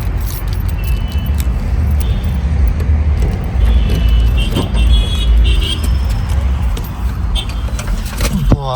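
A car runs close by with a steady low engine rumble throughout, keys jangling and small door or handling clatters on top, while a voice murmurs faintly in the background.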